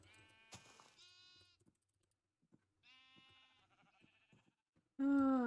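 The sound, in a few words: purple sheep bleating in a video game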